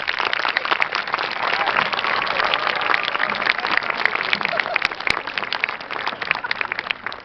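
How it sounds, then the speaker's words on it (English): High school graduation audience at a 2019 commencement in Orange, Massachusetts gives a continuous, loud round of applause for the graduates, even and sustained throughout with no talk. "Please show them the appreciation they so greatly deserve with a round of applause"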